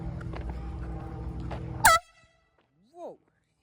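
Outdoor street ambience with a voice rumbling underneath gives way to one sudden, loud, very short air horn blast that cuts off sharply into near silence, followed by a brief exclaiming voice.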